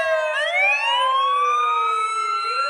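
Emergency vehicle sirens sound at an airport in a flight simulator game, where an ambulance and a fire engine attend a damaged airliner. Clean, loud wailing tones sweep upward and hold steady, with no voices.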